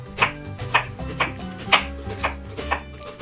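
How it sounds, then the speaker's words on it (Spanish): A knife slicing an onion into thin julienne strips on a cutting board, seven crisp rhythmic cuts close up at an even pace, with no voices. "Ahora vamos a rebanar la cebolla. Se la vamos a partir en julianitas."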